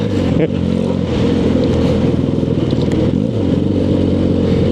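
A motorcycle engine, either a BMW R65 or a flat-tracker build, revs during a downshift on a test ride, a loud, close, throbbing exhaust with a brief dip and rise in pitch, and a voice over it at times.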